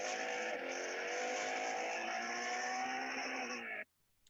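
Race car at the Estoril circuit braking hard into a 180-degree corner, its engine a loud close whine with falling pitch that holds for several seconds, then cuts off abruptly near the end.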